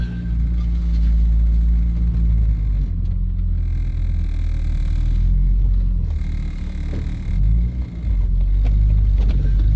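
A Peugeot 205 GTi 1.9 engine runs steadily at idle, a loud continuous low rumble close by with slight swells in pitch and no voices.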